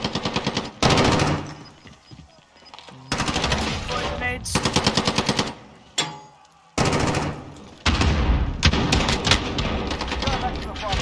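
Video game gunfire in loud, rapid machine-gun bursts separated by short gaps, with single shots and echoing booms between them, and voices talking during the shooting.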